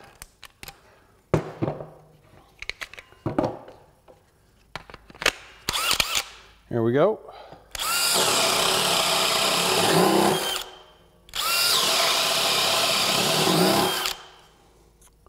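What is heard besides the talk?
DeWalt Power Detect drill boring wood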